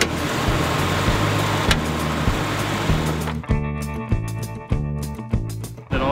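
An old diesel vehicle engine that has sat unused is cranked. A hissy, noisy stretch gives way to a slow, rhythmic series of labored cranking pulses, loud and close, with no voices.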